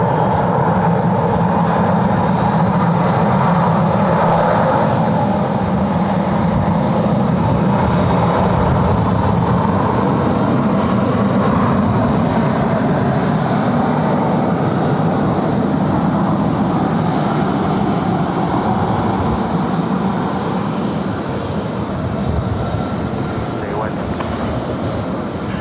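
A T-Way airliner from Seoul landing on runway 16 right at Sydney Airport, heard as a loud, steady, broadband jet roar that holds for the whole span, with voices talking over it.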